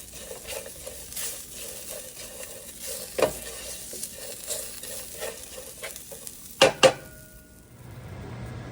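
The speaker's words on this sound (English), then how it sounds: "You can see the cashews starting to get roasted." Cashews roasting in a hot pan for masala dosa, a continuous low sizzle with scraping stir strokes, then two sharp metallic clanks of utensil on pan before the frying fades toward quiet.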